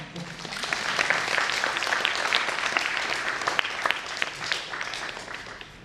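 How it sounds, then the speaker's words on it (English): Conference audience at an autism awareness event claps for an inspiring speaker, many hands building into a dense, continuous round of applause with sharper individual claps standing out near the front. "Give him a clap, come on."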